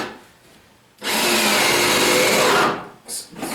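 A power drill drives a screw into wood while building a workbench, a loud steady whirring burst of about a second and a half, followed by a couple of short quieter follow-up spins.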